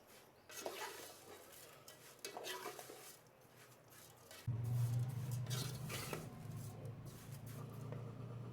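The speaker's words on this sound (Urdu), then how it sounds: "ہم ان کو مسلسل اب چلاتے جائیں گے تاکہ یہ نیچے سے جلے نہ، اور اچھی طرح سے فرائی ہو جائیں" A spoon scrapes and clinks against a pan as vermicelli is stirred in hot oil, repeated close-up strokes over a low sizzle that grows louder partway through as heat rises.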